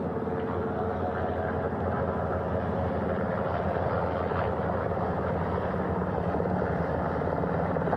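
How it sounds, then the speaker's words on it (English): Helicopters hover over a ship's flight deck just across from the bow, their rotors and engines making a continuous, heavy, moderately distant roar that holds steady throughout. "Hearing them begin to hover on the flight deck, which is just across from us,"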